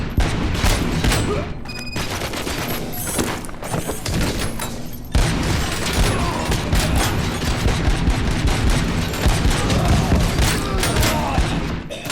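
Heavy .50 caliber pistol fire in the RoboCop: Rogue City video game, loud repeated shots and booming blasts layered over a dense, continuous combat din that shifts slightly halfway through.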